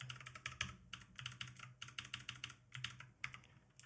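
Quick, light keystrokes on a computer keyboard while entering text in design software, a quiet and steady patter of clicks close by with no voices.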